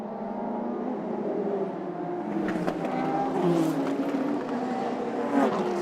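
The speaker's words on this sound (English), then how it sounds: "Great sound effects from all these cars." Several historic race cars roar past on the main straight at a race festival, engines droning and rising in pitch as they go by, a continuous loud mechanical rumble.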